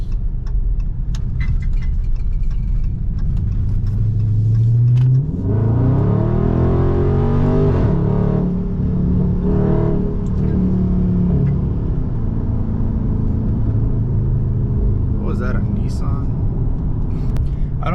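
A Dodge Charger Scat Pack engine revs up hard from a low idle-like rumble into a loud, rising roar around mid-clip, shifts, then settles back to a steady cruise drone heard from inside the car.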